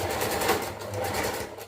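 A sewing machine runs fast on a zigzag stitch over elastic, giving a steady, close, continuous whirring drone with a light rhythmic pulse and no talking.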